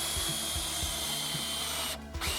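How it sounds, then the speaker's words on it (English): A power drill drives a screw through a nylon frame-type fixing into timber against brickwork, a close, steady motor whine with rhythmic low thuds, ending in a brief pause and restart. "So I've only got one hand on the drill here"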